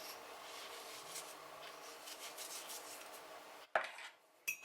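Minced meat seasoned with salt and pepper is stirred in a bowl, a steady close rubbing and scraping that breaks off into a few sharp clinks and knocks at the end.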